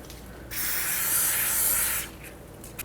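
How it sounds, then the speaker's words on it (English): An aerosol can sprays onto the rusted wheel bearing bolts of a Toyota RAV4 in one continuous hissing burst lasting about a second and a half, close and loud, then stops. "I'm going to pre-spray the bearing bolts."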